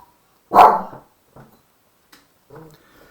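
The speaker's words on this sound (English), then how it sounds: "dog will start barking again." A dog barks once sharply and loudly, followed by a few fainter, shorter yips and woofs spaced over a couple of seconds in an otherwise quiet room.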